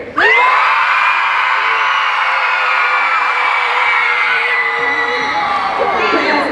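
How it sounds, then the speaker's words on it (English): A large school audience at a talk on grit screams and cheers loudly, a sustained wall of high shrieks and whoops from many young voices that holds for several seconds before tapering off. "I gotta hear that scream one more time"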